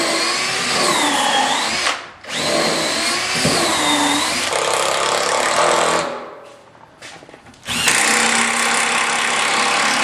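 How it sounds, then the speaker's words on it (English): A power drill with a stepped drill bit whines loudly in several bursts, drilling pilot holes in kitchen cabinets, each running a couple of seconds, with short pauses and a quieter stretch between them. "I use a stepped drill bit to drill pilot holes for all the screws"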